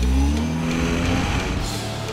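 A vehicle engine revs hard and roars as it accelerates, loud and close, with a rising drone throughout.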